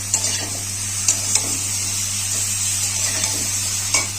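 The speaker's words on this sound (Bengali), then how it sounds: "রাঁধুনি বাটাটা দিয়ে দেব দিয়ে এটাকে একটু আমি হালকা করে কষিয়ে নেবো" Radhuni spice paste being sautéed for shukto sizzles steadily and loudly in a pan, punctuated by a handful of sharp scrapes and clinks from stirring.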